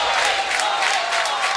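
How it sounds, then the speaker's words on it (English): A crowd at a state championship high school boys' water polo game chants a home player's name in his home pool, a rhythmic, repeated roar echoing steadily across the indoor venue. "Crowd chanting Corey Ketterer's name here in his home pool."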